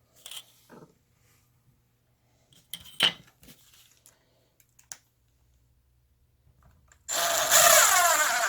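A power drill drives a screw, without a pilot hole, into a hickory and cherry cutting board, a loud continuous whir in the last second and a half after several scattered soft clicks and taps on a quiet bench.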